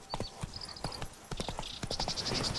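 Roach, the horse in The Witcher 3, clip-clops with quick, rhythmic hoofbeats close by, under faint game ambience and a brief snort.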